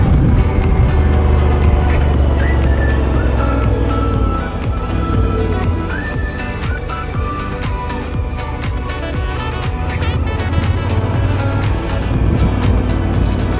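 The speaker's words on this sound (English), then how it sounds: "We're gonna do a little off asphalt ride here anyways." A car drives an unpaved road off the asphalt near Oxdrift: a steady, loud engine and tyre rumble runs throughout, with gravel crunch and rattles over the top.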